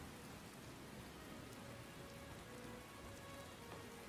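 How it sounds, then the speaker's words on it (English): Steady rain falls in the video game Skyblivion, a dense, even hiss of drops on surfaces that holds unbroken from start to finish with no voices. "it's raining here too"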